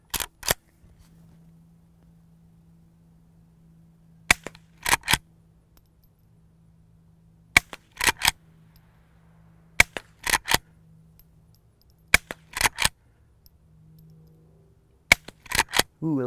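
A suppressed Henry Frontier threaded lever-action rifle fires about six sharp, close cracks, with the metallic clack of the lever cycling between shots, spaced by quiet pauses over a low hum.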